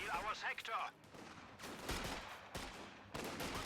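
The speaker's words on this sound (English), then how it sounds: "He's in very close range, receiving fire from 2 squads." Gunfire from infantry squads in Company of Heroes 2, Soviet Ostheer against US Forces, with rapid overlapping rifle and machine-gun bursts at close range, a voice talking over the shooting.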